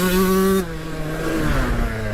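A super rare 135cc two-stroke dirt bike engine drones loudly while riding tight corners, holding a steady high rev before dropping to a lower, rougher pitch that gradually climbs again.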